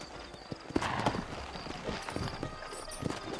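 Horse hooves clip-clop at a walking pace in the video game Red Dead Redemption, a series of close, uneven knocks on the ground with faint rustling between steps.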